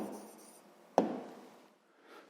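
Pen scratching briefly on paper while a sixth-grade math answer is written down, one short sharp stroke in a quiet room followed by faint soft scribbling.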